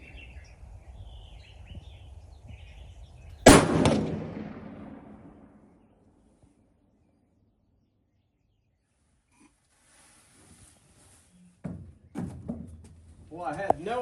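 A single loud .300 PRC rifle shot rings out against an AR500 steel popup target at 100 yards, a sharp crack with a decaying outdoor echo. Quiet follows, then faint bird calls and people talking near the end.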